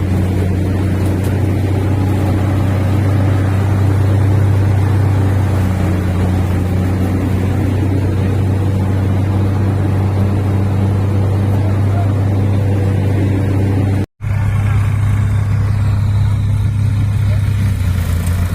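A tractor engine drones loudly and steadily in a field with a deep, constant rumble, briefly cutting out near the end before continuing.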